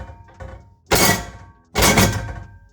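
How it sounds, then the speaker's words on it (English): A kettle and pots are shaken on a stovetop. Two loud, clattering metal bursts about a second apart, each ringing briefly before fading, with quiet rustling between and no voices. "shaking a kettle and pots on the stove"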